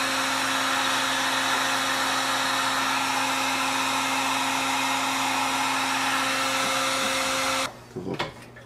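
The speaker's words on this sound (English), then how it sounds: "Take your heat gun, and we're going to heat up the heat shrink tubing" A heat gun blows hard and steady to shrink heat-shrink tubing over a wire on a 12 volt 30 amp auto relay, a loud close whine with a fixed tone, then it cuts off abruptly near the end.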